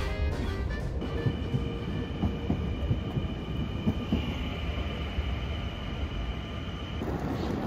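A subway train running from Amsterdam airport toward downtown: a loud, steady interior rumble of wheels on rails with rhythmic clicks and a brief high squeal, no talk over it.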